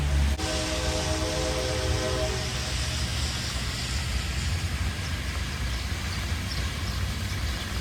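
A mixed freight train on the GNRR, led by several locomotives, sounds its horn briefly at the start, then rumbles steadily and loudly as it draws near at Woodstock.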